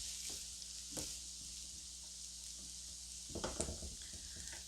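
Sausage, potatoes, cabbage and mushrooms frying together in a pan, a soft steady sizzle held low under faint kitchen noise, with a few light clinks and stirring sounds near the end.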